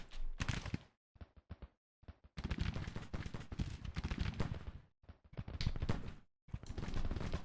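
Musket volleys in a Civil War battle in the strategy game Grand Tactician: The Civil War crackle loudly and densely, with bursts of overlapping shots separated by brief silent gaps.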